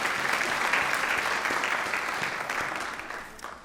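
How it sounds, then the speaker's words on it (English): A crowd at an educational support personnel awards ceremony gives sustained, dense applause that holds steady and then slowly tapers off, with no speech over it. "Let's give all those people one more round of applause in support of the 2025 ESPYs"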